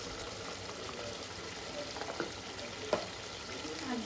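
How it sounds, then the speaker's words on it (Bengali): Skin-on chicken sautéing in oil with black pepper, a close, steady sizzle with soft stirring scrapes and an occasional sharper clack of the spoon against the pan. "চিকেনটা এখানে কষানো, হালকা কষানো হয়েছে, আর একটু কষানো হবে।"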